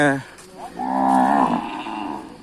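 A cow gives one long, loud moo, with a brief lower call just before it, at a northern Thai native cattle market, close to the microphone and with no talk over it.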